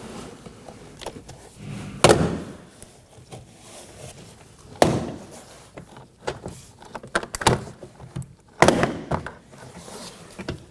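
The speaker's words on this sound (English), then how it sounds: "to remove the door panel, pull away from the bottom corner to undo the clips" Several sharp plastic pops and snaps at irregular intervals as rear door panel clips are pulled loose on a Toyota Corolla, with softer rustling and handling noises between them, close by in a quiet space.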